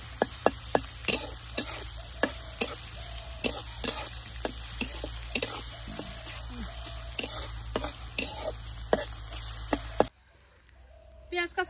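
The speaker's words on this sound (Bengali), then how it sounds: "পেঁয়াজ কাঁচামরিচটা একটু হালকা করে ভেজে নেই।" Chopped onion and green chilies fry in a pan for a chicken curry, a steady sizzle broken by sharp, repeated clicks of a stirring spoon, close and loud for about ten seconds before it drops to near silence.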